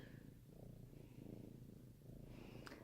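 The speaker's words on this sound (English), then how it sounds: "she's purring super loud" A cat purrs steadily and close, a low rhythmic rumble continuing without pause.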